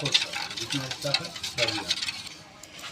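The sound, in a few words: beating cake batter for a mango cake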